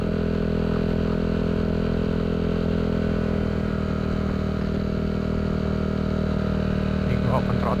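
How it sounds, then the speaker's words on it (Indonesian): A motorcycle fitted with a Villan SR1 aftermarket exhaust, its engine running steadily and close, the throttle opened so the revs climb and hold in a continuous loud drone. "Ini gue open throttle. Gue gas lagi."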